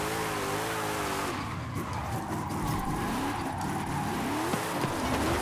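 A rear-wheel-drive car on snow tires slides with no grip in the Forza Horizon 5 video game, its engine revving and wavering as the tires squeal and skid continuously.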